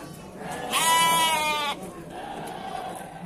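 A Barbados sheep at a livestock market lets out a single loud, wavering bleat lasting about a second, set against a low murmur of market background noise.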